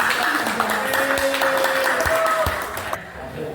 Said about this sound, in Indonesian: berikan tepuk tangan kepada Bapak